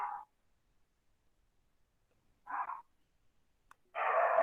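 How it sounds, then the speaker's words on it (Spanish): Several dogs bark at a house in short separated bursts, two brief barks early on, then a louder, sustained round of barking at the end, with quiet gaps between. "es horario de que ladran los perris acá en mi casa, así que los van a escuchar a todos por ahí"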